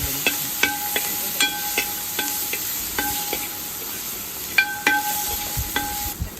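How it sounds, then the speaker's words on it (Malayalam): Crushed ginger, garlic and green chili fry in coconut oil for chicken biryani, a soft sizzle under repeated sharp clinks of a metal spoon against the pan, irregular taps spaced across the stirring, with no talking. "ഇതൊന്ന് ഇളക്കി കൊടുക്കാം നമുക്ക്"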